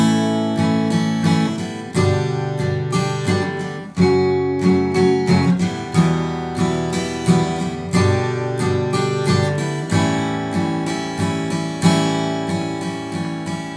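Acoustic guitar strums chords in a steady down-down-up rhythm, bright and close, changing chords every couple of seconds with no voice.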